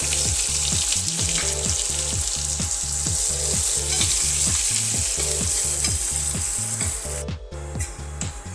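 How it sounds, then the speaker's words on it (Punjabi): Chopped onions sizzle steadily in a hot pan for lentil dal, with a continuous loud frying hiss and regular rhythmic scraping strokes of stirring throughout, briefly dropping near the end. "2 ਮਿੰਟ ਵਾਸਤੇ ਇਹਨੂੰ ਭੁੰਨ ਲਵਾਂਗੇ ਆਪਾਂ ਪਿਆਜ਼ ਪਾ ਦਵਾਂਗੇ"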